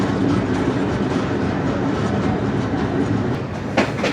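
Passenger train on the Karachi to Larkana line rolling at modest speed past a nearby market and road, a continuous loud rumble with rhythmic wheel clatter heard from inside the carriage.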